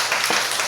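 A church congregation claps briefly in welcome during a Sunday service, a short burst of scattered, fairly close applause with no voices.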